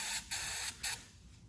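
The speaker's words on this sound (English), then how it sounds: "spray some brake cleaner down there" Brake cleaner from an aerosol can is sprayed into the magazine tube of a rusty Winchester 1906 rifle in three short, loud hissing bursts, the last trailing off into quiet.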